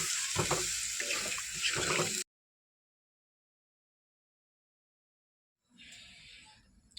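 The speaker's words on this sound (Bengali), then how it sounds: "জল দিয়ে দিলাম আমি।" Water runs and splashes into a pan of spiced egg curry for about two seconds. Then the sound cuts to silence, and a fainter rushing returns near the end.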